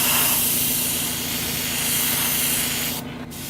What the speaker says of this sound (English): Super quick, super inaccurate spray, but you can see it pulls up that jawline a little more